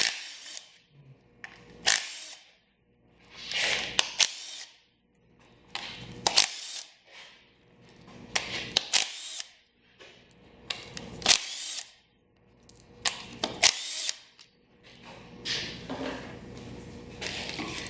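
A power tool spins out the 10mm bolts around the valve cover of an 80 Series Land Cruiser's 1FZ-FE engine. It comes as a run of short, close whirring bursts separated by brief pauses, one burst per bolt.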